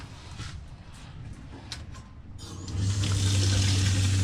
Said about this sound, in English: So it's got good water flow.